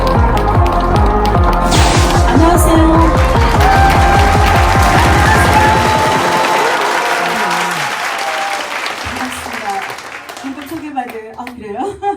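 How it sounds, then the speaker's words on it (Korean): Loud, dense audience applause fills a singing class show held at Songpa Sports and Culture Center in Seoul, greeting a singer as she is introduced, then slowly thinning out as music tones and a few voices come through near the end. "힘찬 박수!"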